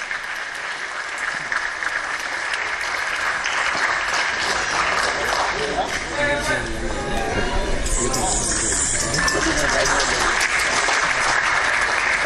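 Enthusiastic audience applause fills the hall at a Tamil film's audio launch, a dense, steady clatter of many hands lasting throughout, with crowd chatter and voices mixed in underneath.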